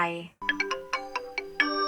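A mobile phone ringtone plays a short, bright melodic chime of quick repeating notes, loud and close, in a Thai audio drama.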